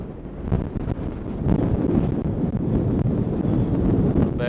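Strong mountain wind at 10,200 feet buffets the microphone in a steady, loud roar with gusty surges throughout, and no voices.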